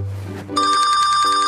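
A telephone starts ringing with a bright, rapidly trilling electronic bell, loud and close, after a brief moment of low background sound.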